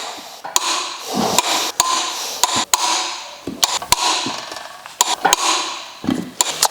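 Engine bolts on a Mazda MX5 are torqued down with the engine braced on a crossbar, giving sharp, repeated metallic clicks at an uneven pace over a steady background hum.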